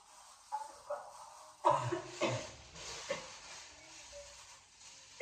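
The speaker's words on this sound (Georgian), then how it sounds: "სურდო მაქვს მახველებს." Coughing from someone with a cold: a few rough, hacking bursts spaced a second or so apart, close and fairly loud against a quiet room.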